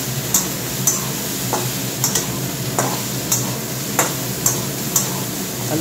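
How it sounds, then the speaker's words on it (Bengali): Potato and cauliflower frying in a covered pan, a steady soft sizzle with a few faint, evenly spaced ticks and clinks on top. "আলু ফুলকপিটা ভাজা হোক,"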